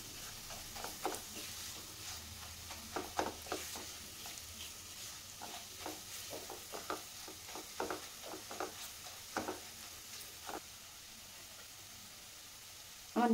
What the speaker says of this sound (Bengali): এবার সব কিছু একসঙ্গে নাড়িয়ে নেব যাতে কোনো মশলারই কাঁচা গন্ধটা না থাকে।